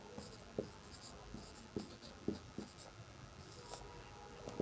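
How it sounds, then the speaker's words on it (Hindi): Pen strokes on paper as a Class 10 maths problem on linear equations in two variables is written out, with scattered soft scratches and taps at an irregular pace, close and quiet, with no talk. "तो यहाँ पे लिखेंगे कि प्रश्नानुसार"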